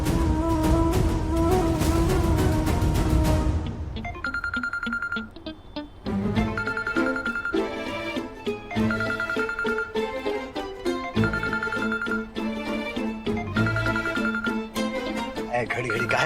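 A melodic phone ringtone plays in repeated bursts over music, loud and steady, with a brief pause partway through.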